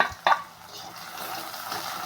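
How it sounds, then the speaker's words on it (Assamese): Onions frying in oil give a soft, faint sizzle that follows a couple of quick utensil knocks at the start. "তেল আৰু পিঁয়াজখিনি ভাজি লৈছোঁ।"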